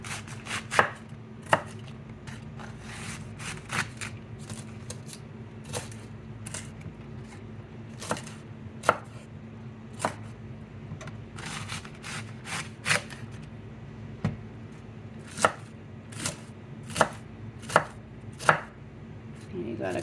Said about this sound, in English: You're just going to cut it up in little slices.